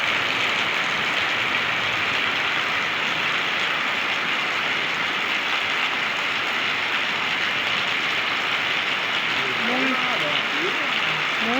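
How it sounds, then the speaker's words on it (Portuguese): Heavy rain pours steadily in Floresta do Araguaia, Pará, a dense continuous hiss of water on surfaces, loud and unbroken, with faint voices near the end. "E a chuva mais uma vez atrapalhando nós aí."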